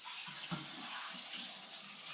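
Tap water runs steadily into a cup being rinsed out, a continuous splashing stream with a brief knock of the cup near the start.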